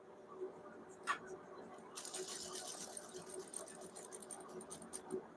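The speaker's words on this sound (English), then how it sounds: "But first I have to finish stitching my center back panel." A sewing machine runs steadily while stitching the center back panel of a dress bodice, a close, continuous mechanical whir from about two seconds on, after a few soft handling clicks.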